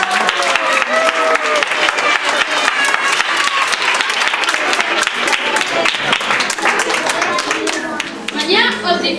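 A school audience applauds loudly for children who took part in a costume event, dense clapping sustained throughout, with children's voices and cheers mixed into the crowd noise.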